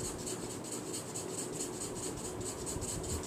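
A pencil is lightly shaded back and forth on paper, giving a soft, steady rhythmic scratching and rubbing, close and fairly quiet, with regular strokes throughout.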